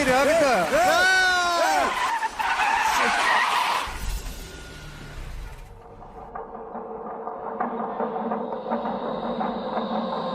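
A car skids hard to a stop during a tense scene in a Hindi-dubbed action film, a loud, sustained scraping rush beneath frantic shouting voices, then fading into lower rumbling background sound.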